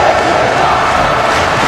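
A loud, dense wrestling crowd cheers and roars continuously during a women's match at an MPWF event, a steady wall of voices throughout.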